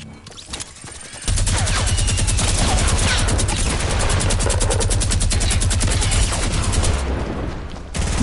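Rapid automatic gunfire from a video game rattles in a long sustained burst of evenly spaced shots, loud and close, starting after a brief quieter lead-in and stopping near the end.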